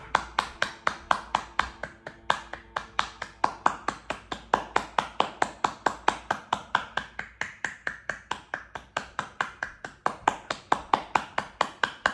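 Hands clap in a rapid, steady rhythm during a yoga breathing exercise, with several dozen crisp, evenly spaced claps carrying close and loud throughout.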